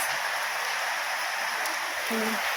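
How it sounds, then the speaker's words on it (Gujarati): Heavy rain pouring down as a dense, even wash of hiss that continues without a break, with a faint low sound briefly near the end. "જો ફૂલ વરસાદ આવે"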